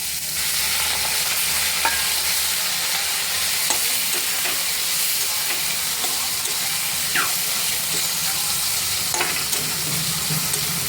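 Onions fry in fish fat in a pan with a steady, close sizzle. Occasional scrapes and stirring clicks sound over the constant hiss.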